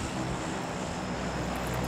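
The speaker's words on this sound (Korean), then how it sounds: "아, 비행기 보자." Steady, broad propeller-aircraft drone of the airplane flying overhead in the video game PUBG, a constant roar with no talking.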